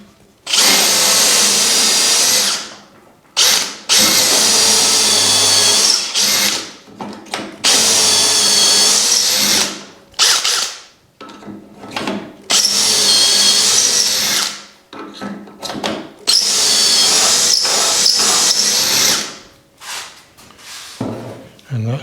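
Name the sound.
power drill drilling wood with a Dowelmax doweling jig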